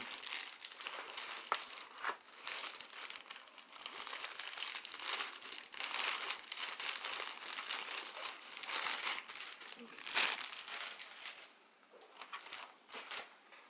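Plastic bag crinkling and rustling as it is pulled off a new Tt eSports Knucker Team DK edition keyboard, continuous close handling noise with sharper crackles and no speech.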